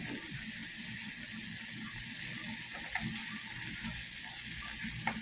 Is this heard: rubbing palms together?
no